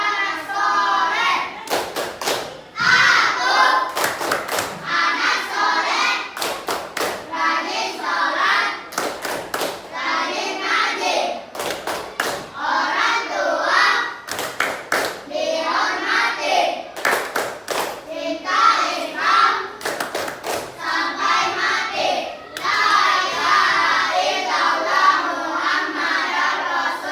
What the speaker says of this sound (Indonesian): Tepuk tangan sore.